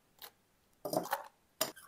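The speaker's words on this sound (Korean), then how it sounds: "그리고 얼음을 넣어주세요." Ice cubes dropped into a glass for a layered milk and cream drink, three quick, close clinking clatters, the middle one longest, in an otherwise quiet room.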